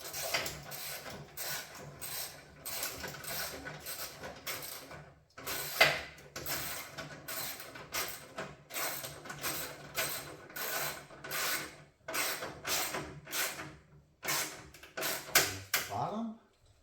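An 8mm socket ratchet tightens the fog light bolts on a 2004 Ford F-150, giving steady runs of close, crisp mechanical clicks broken by brief pauses, with a voice speaking over parts of it.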